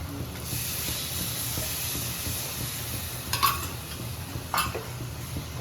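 Yogurt stirred into an okra curry in a pot, a steady soft hiss and sizzle with gentle scraping, plus two brief clinks of a spoon against the pan near the end.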